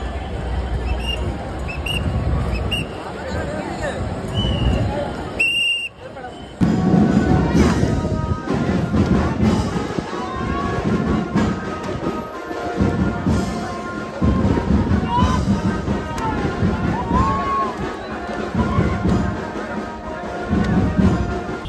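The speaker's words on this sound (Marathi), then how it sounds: "खतरनाक लेवल वरती गर्दी आहे" A dense crowd at a Ganesh Visarjan procession in Girgaon Chowpatty makes a constant babble of voices, with clatters and thumps mixed in. Occasional louder bursts rise out of the ongoing commotion.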